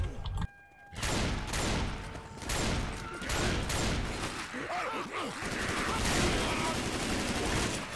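A flurry of gunfire in Left 4 Dead 2, with overlapping bursts of rapid shots after a brief near-silent gap at the start, continuing loud and dense while voices groan and shout beneath the shooting.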